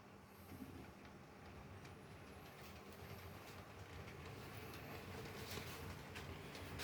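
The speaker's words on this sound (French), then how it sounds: "le train va de nouveau refaire un circuit de 3 passages" A model railway train runs along its layout, a faint continuous rolling rumble with light clickety rail noise that builds slightly, no voices.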